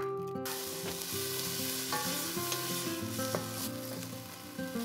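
Garlic, ginger, onion and carrot fry in oil for an outdoor-cooked biryani, with a loud, continuous sizzle close by under steady tonal background sounds and occasional stirring clicks.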